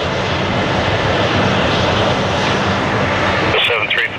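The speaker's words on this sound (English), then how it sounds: "Cruise 1866, cleared for takeoff, runway 6 left." A loud, steady engine roar from an aircraft taking off on runway 6 left at Toronto Pearson airport fills the clip, with radio voices heard over it.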